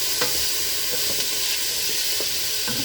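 Vegetables sauté with a little salt in a pan for Cornish hen chicken soup, giving a steady close sizzle with soft scraping stirs and a few light utensil taps throughout.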